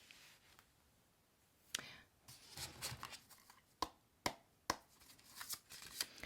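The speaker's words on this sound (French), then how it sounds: "c'est de faire un petit mélange de cartes" Tarot cards, a deck of the Enchanted Tarot by Barbara Moore, being shuffled by hand, heard as quiet sliding riffles broken by several sharp close card snaps and taps.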